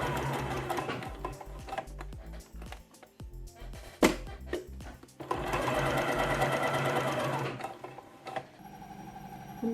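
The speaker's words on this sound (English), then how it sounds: "now I'm going to the sewing machine and sew it all down" Sewing machine stitching a man's shirt being remade into a dress, heard in bursts of quick mechanical whirring with pauses and small clicks between runs, fairly close and quiet overall.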